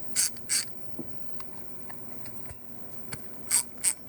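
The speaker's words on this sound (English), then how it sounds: "That's what it sounds like, with very little to no lube in it" Sparse mechanical clicks from a Stanley ratchet with little to no lube, a few sharp high ticks in pairs with soft scattered clicks between, close and dry, no voices.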